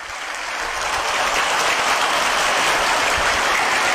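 Children clap loudly together, a dense and steady wash of applause that swells in the first half second and then holds without a break.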